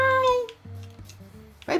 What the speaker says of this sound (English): That's the cat I wanted!